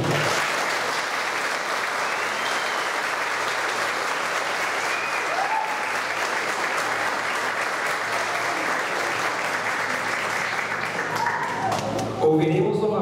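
Sustained applause from an audience at a city council awards ceremony, honoring an athlete who will represent Aguaí and Brazil, a steady dense clapping wash throughout, with a slight swell near the end.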